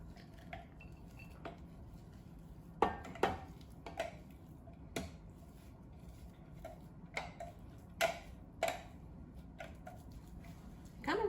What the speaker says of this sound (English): I'm going to mix it with my spatula